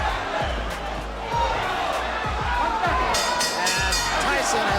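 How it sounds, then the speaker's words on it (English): Boxing arena crowd chanting the name Jose, a dense roar of many voices pulsing in a steady rhythmic chant, loud and sustained throughout, with an announcer's voice over it. "Crowd taking up a chant of Jose."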